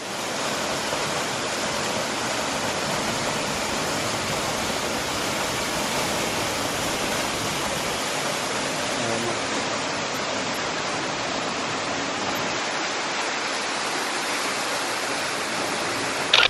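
A waterfall roars as a dense, constant wash of white noise that fills the whole stretch without pause, loud and close, with no voices over it.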